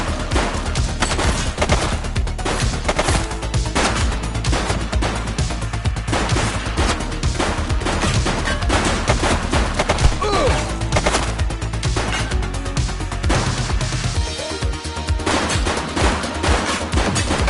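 Sustained heavy gunfire in the police game The Precinct, rapid overlapping shots and bursts rattling loud and close for the whole stretch, with a brief crash mixed in.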